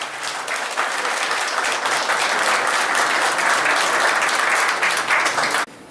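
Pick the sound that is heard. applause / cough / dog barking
applause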